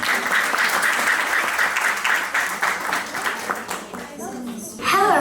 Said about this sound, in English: So applaud her,